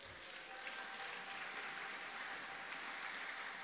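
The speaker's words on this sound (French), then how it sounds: "Est-ce que quelqu'un peut applaudir la parole de Dieu?" Church congregation applauding during a sermon, a soft, distant, even patter of clapping that neither swells nor fades.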